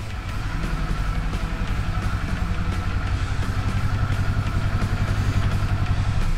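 A 2022 Kawasaki Z400 motorcycle pulls away from a stop, its engine a steady, close, low hum that builds slightly as it moves off, with no talk.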